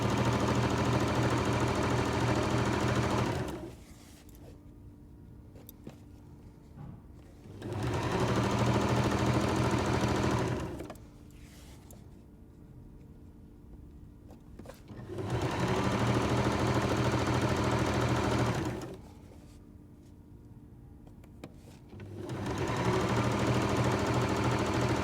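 A sewing machine stitches quilt fabric pieces in three or four steady runs of a few seconds each, a close rhythmic hum and rattle, with quieter pauses in between and no talking.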